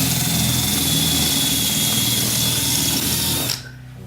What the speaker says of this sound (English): we're gonna start drilling these rivets out